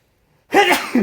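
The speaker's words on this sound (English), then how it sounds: "Oh, I feel a sneeze coming in." A single person's sneeze bursts out after a short silence, close and fairly loud, with a brief second exhale trailing at the end.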